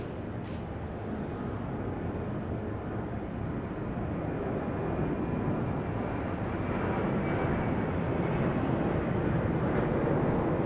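A Qantas Boeing 737-800 roars at Sydney Airport, a broad, steady jet-engine rumble that swells slightly louder over about ten seconds, heard from a distance with no voices.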